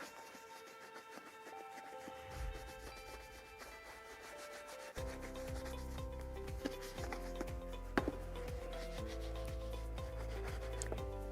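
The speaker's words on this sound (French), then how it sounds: "on va prendre notre brosse une deuxième fois et on va commencer à bien brosser la chaussure" A shoe brush scrubs over a polished leather shoe in steady, scratchy strokes. The strokes grow louder and more rhythmic halfway through, close up with no voices.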